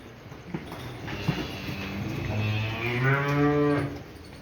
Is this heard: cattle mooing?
yes